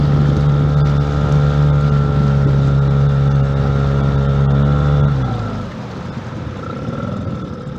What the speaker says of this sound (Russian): Ну, шумность вообще потрясающе низкая мотора. Вот слышно на холостом вот сейчас.